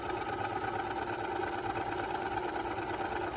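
A sewing machine stitches straight seams in fabric, giving a continuous even mechanical hum with a fast, steady rhythm throughout, close and moderately loud, with no talking.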